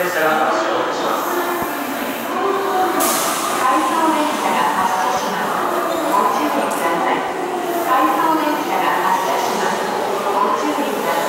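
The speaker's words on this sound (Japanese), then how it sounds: "八王子から回送電車が発車します。" An out-of-service train rumbles and hisses as it pulls away from Hachioji station, while an amplified voice makes an announcement in Japanese over the noise.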